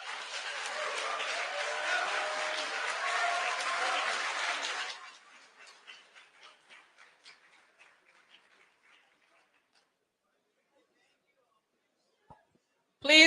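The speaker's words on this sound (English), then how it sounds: "Please control the clapping." An audience at a Liberian presidential debate applauds in a dense, moderately loud burst for about five seconds, then it fades through scattered trailing claps into near silence.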